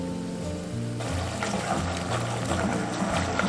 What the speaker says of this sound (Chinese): 我们倒入清水